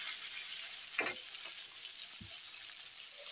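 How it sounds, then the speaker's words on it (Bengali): Pieces of fish fry in oil in a pan, a soft steady sizzle heard fairly quietly, broken by a brief spatula scrape and a small knock, with no voices. "ওখানে মাছ ভাজা হতে হতে"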